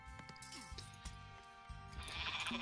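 Trade-route donkeys in the video game Age of Mythology bray and bleat in short repeated calls over busy game music and effects, with a louder burst of activity near the end.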